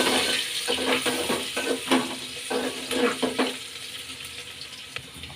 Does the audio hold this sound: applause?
no